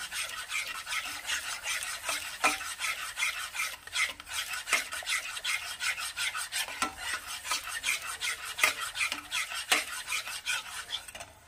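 Pabda fish curry with sour yogurt stirred in a pot makes rapid, rhythmic scraping and rubbing strokes of a metal spoon, close and fairly loud, with a faint sizzle underneath and no talking.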